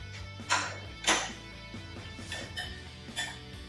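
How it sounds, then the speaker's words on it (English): Lemon, ginger, garlic and apple being stirred together in a kitchen bowl, with a few spaced utensil clinks against the dish and soft scraping between them, fairly quiet and close. "Mix it together with some passion."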